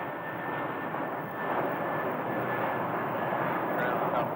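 An American Airlines jet rolls along the runway at Phoenix airport, a steady distant broadband engine roar that swells slightly, heard alone without talk.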